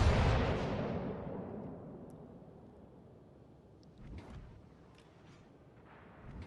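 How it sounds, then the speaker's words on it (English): Warship guns firing in the naval game World of Warships: Legends: a heavy booming salvo that rolls away into a long fading rumble, followed by softer distant impacts, with no talk. "Concentrate fire on the enemy warship. Shots out on Gakazi again."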